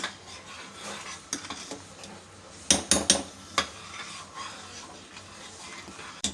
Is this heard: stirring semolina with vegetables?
yes